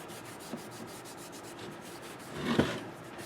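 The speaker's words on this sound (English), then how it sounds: "I'm just going to buff this up a little bit with some Scotch-Brite." Scotch-Brite pad buffing a four-jaw lathe chuck, heard as a faint, quiet hiss and a brief stronger scrubbing burst near the end, with a soft tap early on.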